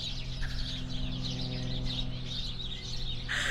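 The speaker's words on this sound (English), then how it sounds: "Can you guys hear the birds chirping right now?" Birds chirp and call in the background outdoors, with faint clucking fowl mixed into a low steady hum.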